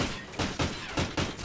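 Call of Duty Ghosts pistol gunfire in a video game cracks out in four quick, evenly spaced shots, fairly loud and punchy, with no talk over them.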